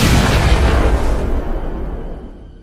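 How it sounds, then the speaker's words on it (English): A massive explosion in a river throws up water, heard as a loud, broad boom that fills the opening and slowly fades over a couple of seconds, with no voices. "water sprouted from the river in a massive explosion as the loud bang was heard throughout."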